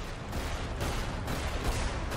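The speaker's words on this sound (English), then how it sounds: "this just calls for a lot of gunfire." Gunfire in the video game Magicka, a continuous dense barrage of rapid shots and bursts, fairly faint and steady throughout the short stretch, with no talking.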